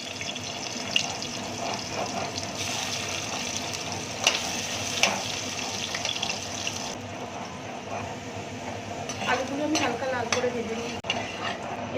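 Thin-sliced potatoes frying in oil in a wok, a continuous sizzle with stirring scrapes and occasional clatter, fairly close and steady with no voices.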